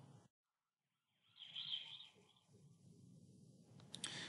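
An ambulance siren passes by with a Doppler shift, its wailing tone rising faintly out of near-silence, swelling briefly and then fading under low background rumble.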